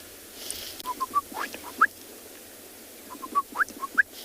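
Bird call playback from a phone speaker outdoors at sunrise on safari: a sparse series of short, thin whistled notes in two loose bursts, faint and slightly tinny over steady background hiss.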